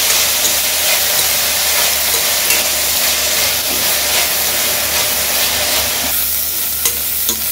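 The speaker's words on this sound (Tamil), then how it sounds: "இப்போ இதில் போட்டு வாழைப்பூவை கிண்டிக்கணும்." Banana flower is stirred in a hot pan, a steady loud sizzle and hiss of frying with soft scraping from the spoon throughout and no talking.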